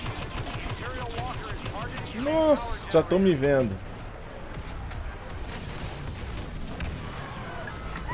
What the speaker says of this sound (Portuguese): É muito tiro, velho!